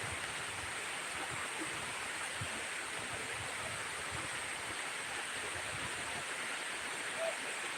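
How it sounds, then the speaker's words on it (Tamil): Evening rain falling outdoors in a Tamil town, a steady broadband hiss of water without pause, moderately loud and even throughout, with no distinct individual drops. "அந்தி மழை பொழிகிறது, ஒவ்வொரு துளியிலும் உள்முகம் பொழிகிறது."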